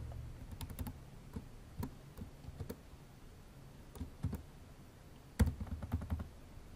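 Soft clicking of a computer keyboard as code is typed, irregular bursts of quick keystrokes with short pauses, close but quiet, with no speech.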